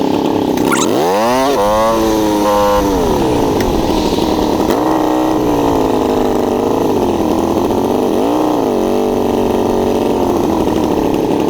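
A motorcycle engine, ridden on a cold day, roars loud and close. Its pitch swoops up and drops as gears change, then settles into a steady drone with smaller rises and falls.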